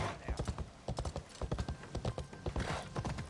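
A summoned horse trots in the video game Assassin's Creed Shadows, its hooves clip-clopping in a steady, close rhythm while someone talks over it.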